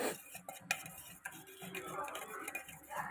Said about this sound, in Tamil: இது எல்லாமே நம்ம போட்டு ஒரு பேட்டர் வச்சு நல்லா கட்டி இல்லாமல் நல்லா நம்ம கலக்கணும்.